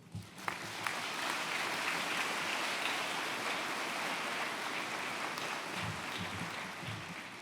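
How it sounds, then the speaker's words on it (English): A graduation audience at a 2019 Middle Georgia commencement gives a student speaker a long, steady round of applause, a dense wash of many hands clapping that holds evenly throughout. "Let's give her another round of applause for that."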